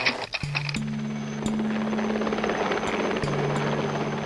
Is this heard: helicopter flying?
yes